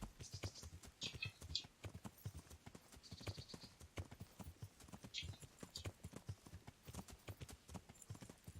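Steady clip-clop of horse hooves trotting at a brisk rhythm in the video game Kingdom Come: Deliverance, with occasional faint scratchy sounds in the background.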